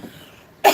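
A single sharp, loud cough bursts out near the end after a stretch of quiet, faint background.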